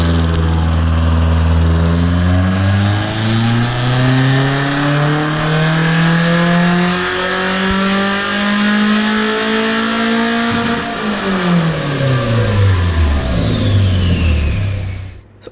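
A car engine revs hard through a full dyno pull with the air conditioning running, its pitch climbing steadily for about eleven seconds before dropping as the throttle closes, loud and close with no voices.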